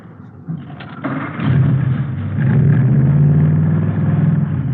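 A 120-horsepower custom hot rod engine cranks and fires up, then runs with a deep, rumbling idle close by, growing louder after the start.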